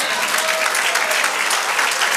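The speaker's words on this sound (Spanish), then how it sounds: "Dale aplauso al Señor." A congregation at a Spanish-language church sermon breaks into loud, dense applause to the Lord, a sustained close clatter of many hands with no talk over it.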